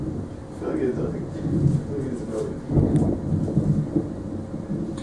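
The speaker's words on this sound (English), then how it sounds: "Because it's thundering." Deep, rolling thunder from a storm, with a loud swell near the middle, runs under people talking indoors throughout.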